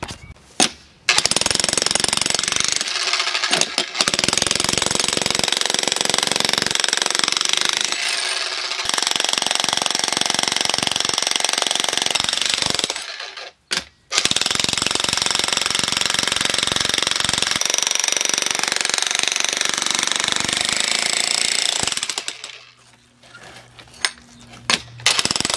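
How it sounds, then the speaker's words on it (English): A loud 2200W electric demolition jackhammer pounds continuously against a concrete slab, with a few brief pauses and a quieter stretch near the end. "and it'd be nice to use this jackhammer"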